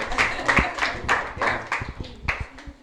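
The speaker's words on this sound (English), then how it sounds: "Give a round of applause" A small group applauds a former West Indies cricketer, a short bout of distinct, fairly close hand claps in uneven rhythm that thins out toward the end.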